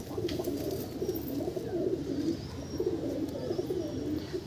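Breeding pigeons with clipped feathers in a loft coo continuously in low rolling throbs, several birds overlapping close by with faint chirps above, and no talking.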